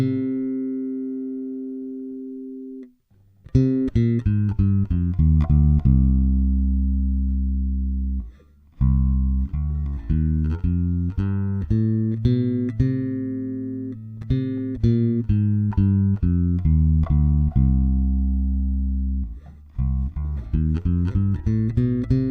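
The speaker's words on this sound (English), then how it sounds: "Here's number 3, C melodic minor up and down." A bass guitar plays a C melodic minor scale ascending and descending, clean, distinct notes plucked one after another in steady rhythm, with brief pauses between runs and no talk.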